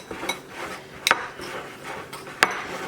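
A utensil scrapes and clicks against a bowl while stirring sugar, salt, nutmeg, cinnamon and fresh rosemary together for candied pecans, with a few sharp taps amid soft gritty rubbing, close up and without talk.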